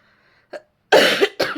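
A woman coughs, a faint short cough followed by two loud, harsh bursts close up, against an otherwise silent background.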